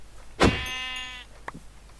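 A single loud, drawn-out sheep bleat from the video game Minecraft with a wavering tone, close and clear, followed by a brief soft click.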